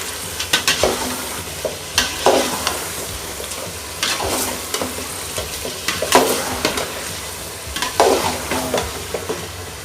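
Chicken for a layered Pakistani chicken biryani sizzling in a pan with repeated scraping stirs of a spoon, rhythmic clatter over constant frying crackle, close and loud with no speech.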